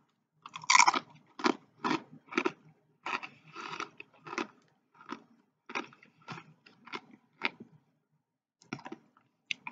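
Someone chews teriyaki noodles close to the mic, with a regular series of wet, crunchy bites and mouth clicks separated by brief pauses.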